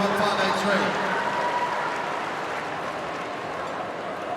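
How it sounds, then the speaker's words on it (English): Applause from an arena crowd after a medium-size dog's agility run at a Kennel Club competition, a broad steady clatter of clapping that fades slightly toward the end, with a commentator's voice blended underneath. "give them a round of applause"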